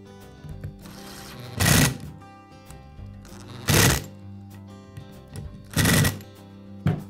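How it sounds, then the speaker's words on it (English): Screws are driven to fasten the pad of a Makita sander/polisher, four loud whirring bursts of a power driver about two seconds apart, with quieter clicks and handling noises between them. "I'll align the pad with the screw holes and secure it with the screws."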